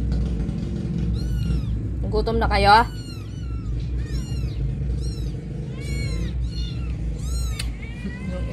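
Kittens meowing in high, thin repeated cries close by, over a constant low background hum, while a person speaks briefly.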